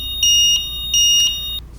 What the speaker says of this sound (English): an audible alarm will start alerting them that they need to return it to the storage bracket.